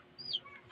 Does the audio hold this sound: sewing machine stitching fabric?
no